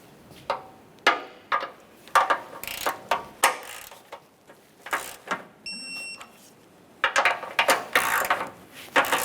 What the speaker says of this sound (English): now we're going to torque all 8 of these to 24 foot-pounds